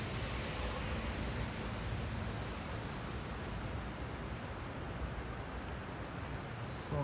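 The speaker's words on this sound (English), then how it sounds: "it's raining. It's raining today." Rain falls at the Ponte delle Catene in Bagni di Lucca as a continuous, even hiss of noise without pauses or voices.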